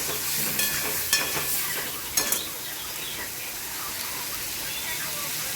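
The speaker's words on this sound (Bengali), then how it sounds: "দেখো 1 চামচ লঙ্কা গুঁড়ো অ্যাড করেছি, ভালো করে কষিয়ে নেব।" Chili powder sizzles and is stirred in a hot pan as part of an egg and potato curry, a steady hiss with a few sharp clinks of a utensil against the pan.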